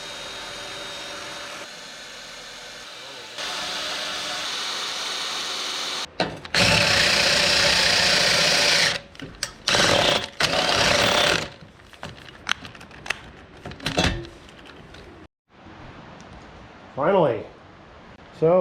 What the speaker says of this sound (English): let's drill these holes on this engine